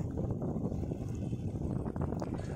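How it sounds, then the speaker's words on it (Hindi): A motorbike on a rough monsoon road ride near Pune, its engine making an odd noise: a dense, steady low rumble mixed with wind buffeting the microphone, continuous throughout with no voices. "और आप अभी बाइक का नॉइज़ सुन सकते हैं, बहुत अजीब सा आवाज़ कर रहा था।"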